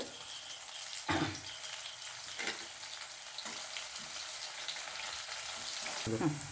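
Onion sizzling and frying in a pan for a bitter gourd vegetable dish, a steady broad hiss with a few louder spatter bursts and stirring scrapes, close and alone without talk.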